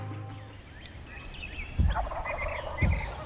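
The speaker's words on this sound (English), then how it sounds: "As you can tell, the turkeys are super fired up this morning." Wild turkeys gobble in Iowa timber at dawn, with two loud, rattling gobbles about a second apart rising over quieter distant calls and birdsong.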